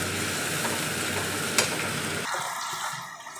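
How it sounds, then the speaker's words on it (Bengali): Potatoes frying in a pan with ginger paste and spices, stirred steadily, give a dense close sizzle with scraping that eases and thins toward the end; no voices. "মশলা দিয়ে কিন্তু কষানো হয়ে গেছে, ভাজা ভাজা হয়ে গেছে সবগুলো।"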